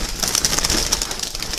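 Young spotted doves give soft, repeated coos close by, steady through the moment against a faint hiss of background noise.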